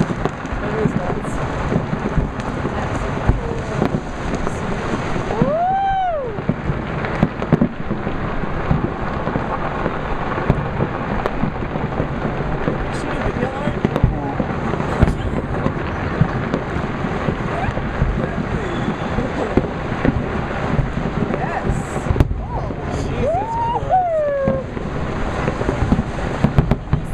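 New Year's Eve fireworks in Honolulu explode continuously, a dense, loud barrage of crackling and booming pops with a couple of whistling rockets rising and falling, with voices talking now and then.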